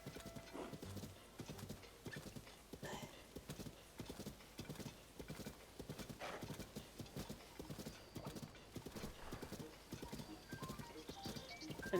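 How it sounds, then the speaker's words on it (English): Horse in Zelda: Tears of the Kingdom galloping with a fast, steady clip-clop of hooves throughout, close and continuous, with a whinny near the end; faint talk in the background. "Bat Horse gone nuts"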